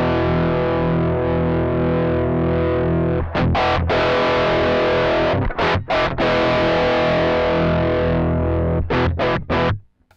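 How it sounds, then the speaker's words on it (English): Overdriven electric guitar through a Mosky M-Shall pedal into a Marshall-style amp, thick sustained distorted chords with a few short choppy stops near the end, loud and close. "I'm going to bring the drive back up because that's where we should be with a Marshall."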